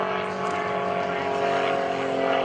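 Propeller engine of an aerobatic airplane droning steadily through flat spin maneuvers at an airshow, a continuous buzzing tone with layered harmonics holding loud throughout, with an announcer speaking over it.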